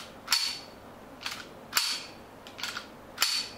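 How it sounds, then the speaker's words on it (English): A full-steel Beretta airsoft pistol is dry fired about five times, each a sharp, close metallic snap at irregular intervals against quiet surroundings. "This Ghost Island Beretta is full steel, and it sounds absolutely amazing."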